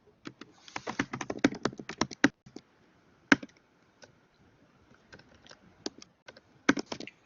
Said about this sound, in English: Hear people typing